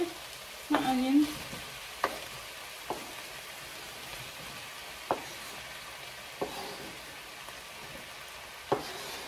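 Potatoes and onions frying in a pan after the meat is drained, a constant crackling sizzle with a few sharp taps and scrapes of a utensil at intervals, close up, with no talk.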